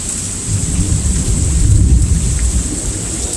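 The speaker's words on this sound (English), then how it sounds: "it's pouring pretty heavy" Heavy rain pours steadily during a good-sized rainstorm with tornado potential, while a low thunder rumble swells and rolls beneath the constant hiss, loud and close.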